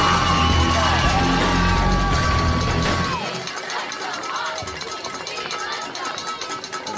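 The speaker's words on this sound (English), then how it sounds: "And the crowd showing out," A high school JV football crowd cheers a touchdown run, a loud mixed roar of yells and whoops with a play-by-play voice talking over it, the cheering easing to a lower buzz partway through.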